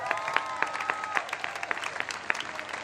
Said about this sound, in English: how about a round of applause for our veterans?